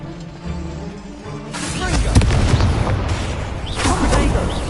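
Incendio fire spell cast in the video game Hogwarts Legacy, loud whooshing bursts of fiery noise with booming impacts, two main surges over a steady game backdrop.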